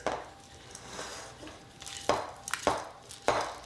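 Red pepper hummus ingredients being stirred in a bowl, soft scraping with several sharp knocks of a utensil against the bowl toward the end.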